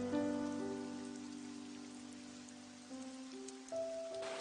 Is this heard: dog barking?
no